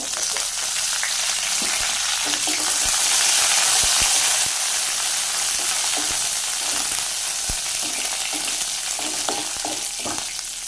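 Steady crackling sizzle of dried red chillies and curry leaves frying in hot oil, loud and close, with occasional clinks and stirring scrapes.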